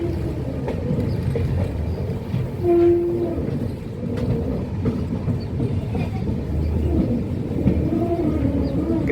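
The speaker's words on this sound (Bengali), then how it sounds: "একটা ট্রেন আছে ওভারব্রিজের উপরে।" Train at Kamakhya Junction station in Assam, a continuous low rumble of rolling rail cars with a short tonal horn-like note near the start, heard steadily and fairly close.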